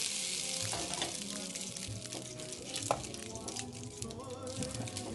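Beef cubes for stew frying in a pan, a close, steady sizzle with crackling pops and faint clatter as the pieces are moved, heard alone without talk.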